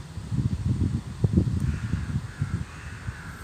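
Crows caw in a park where birds are being fed, a cluster of rough, low calls close by over faint background rustle.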